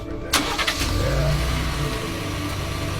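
A pickup truck engine cranks and fires up with a sharp starter burst, then settles into a rumbling idle with a brief rev, close by and steady throughout, with no talking over it.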